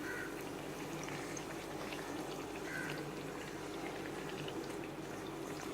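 Puris puffing and frying in hot oil, a steady bubbling sizzle running throughout at moderate level, close by, with no voices.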